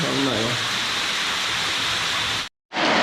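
River water rushes steadily through a waterfall valley near Erbil, a loud broadband wash of flowing water with a brief cut to silence near the end.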